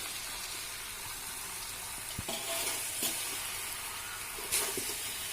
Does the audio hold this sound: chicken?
yes